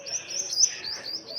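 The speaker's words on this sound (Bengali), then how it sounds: "এই মাকোয়া পায়রা আর এই পায়রা জোড়াটা" Pigeons, including a Makoya pigeon pair near a small water house, give soft close chirps and coos, a brief, fairly quiet burst of bird calls with no talking.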